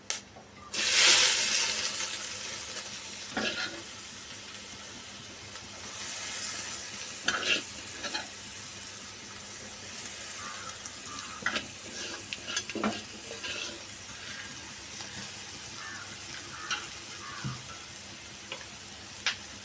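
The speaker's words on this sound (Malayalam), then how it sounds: "പിഴിഞ്ഞ് വെച്ചിരിക്കുന്ന കപ്പങ്ങ ചിരണ്ടിയത് നമുക്കിതിലേക്ക് ഇടാം" Grated raw papaya hits a hot pan for Kerala-style thoran with a brief loud burst of sizzle, then soft scattered stirring and scraping over a quieter frying hiss, close and with no talk.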